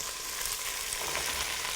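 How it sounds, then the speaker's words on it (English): Courgettes fry with other vegetable curry ingredients in a hot pan, giving a steady, close, bright sizzle and crackle that continues without pause. "You can hear it sizzling away there."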